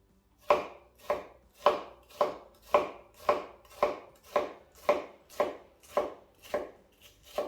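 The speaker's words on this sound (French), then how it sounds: "pour ceux qui ne savent pas ciseler un oignon, c'est simple" A knife finely chops a halved, peeled onion on a board, about a dozen crisp, evenly spaced strokes in a steady rhythm, close and clear with nothing else heard.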